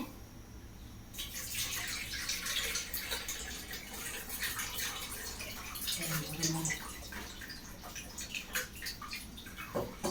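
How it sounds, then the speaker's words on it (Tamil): Tamarind water pours steadily into a pot for fish curry, a continuous splashing trickle heard up close at low volume. "அதுக்கு புளி தண்ணியும் ஊற்றுறோம் ஃபுல்லாக"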